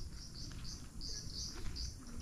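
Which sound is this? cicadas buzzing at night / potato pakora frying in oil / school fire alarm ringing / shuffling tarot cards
cicadas buzzing at night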